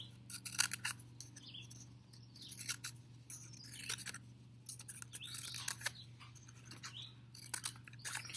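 Scissors snip through paper to cut large flower petals, a series of quick crisp cuts and paper rustles at close range over a faint low hum, no voices.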